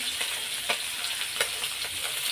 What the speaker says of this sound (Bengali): কয়েকটা ট্যাংরা মাছ আবার এই যে পুরোটাই ভাজা বসিয়ে দিয়েছি